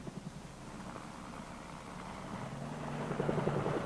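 A military marine helicopter drones at a distance, its rotor chop and turbine hum steady and moderately faint, swelling slightly louder toward the end with some wind noise.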